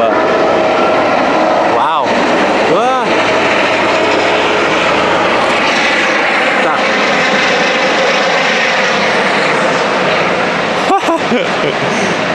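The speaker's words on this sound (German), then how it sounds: "Ja, ein Hubschrauber." A loud, steady engine roar of a helicopter passing overhead, filling the whole clip, with brief bursts of a voice speaking over it.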